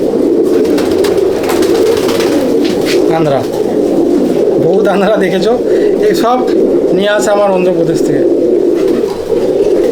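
Andhra and Madrasi pigeons coo repeatedly in a loft at Taton Pigeon Loft, Halisahar, a loud, dense, close chorus of rolling calls under someone talking.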